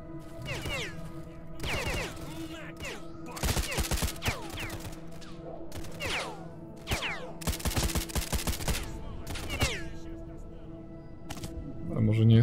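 Repeated bursts of rapid video game gunfire in S.T.A.L.K.E.R. crackle in short volleys over a steady mechanical hum, with brief gaps between the bursts.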